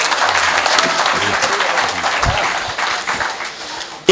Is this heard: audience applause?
yes